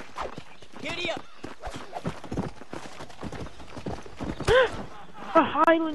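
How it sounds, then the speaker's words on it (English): Hooves of a Highland chestnut horse clop and patter in the Red Dead Redemption video game, with a brief whinny near the end, under someone talking. "A Highland chestnut horse"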